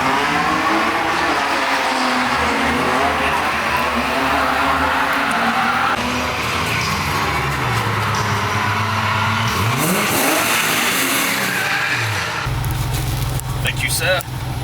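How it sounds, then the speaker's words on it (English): A broken Nissan 370Z drift car's engine is revved hard at full throttle, loud and close. The pitch climbs and falls in repeated surges and settles into a low drone near the end, with people talking over it. "clutch in, gas full throttle, crank it."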